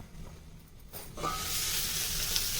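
Ivy gourd sautéing in a pan for a sesame masala poriyal, a steady sizzling hiss that starts quietly and swells louder partway through, continuing evenly without talk.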